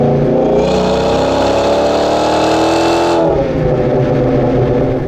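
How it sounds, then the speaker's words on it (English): Loud Hemi V8 of a Dodge Magnum SRT8 wagon pulling hard in gear, its roar rising steadily for about three seconds before easing off into a lower, settling engine note. "So I'm going to drop down a gear in a moment and let it rev out."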